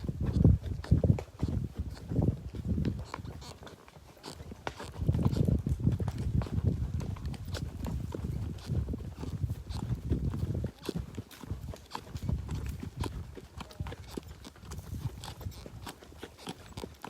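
Tired horses walking on a warm-afternoon safari, hooves clip-clopping in a steady, close rhythm that stays moderately loud throughout, with some faint voices in the background.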